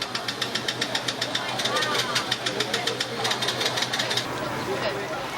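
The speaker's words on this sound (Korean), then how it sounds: "오토바이는 시동이 꺼지고 말았다." A motorcycle engine stalls in seawater flooding a street at a spring high tide in Incheon and chugs in a rapid, knocking rhythm of pulses before fading, with a voice speaking over it.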